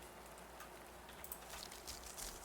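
Steady, faint rain falls continuously in the Lost Flame video game, a soft wash of drops with a few slightly louder patters, and nothing else over it.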